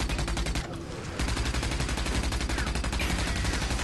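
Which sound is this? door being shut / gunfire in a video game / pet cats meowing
gunfire in a video game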